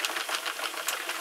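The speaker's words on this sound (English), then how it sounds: "I'm going to crank up a few more rows of this" A Sentro knitting machine cranks rows of 4-weight yarn, giving a fast, steady train of clicking, clattering ticks close by with no voices.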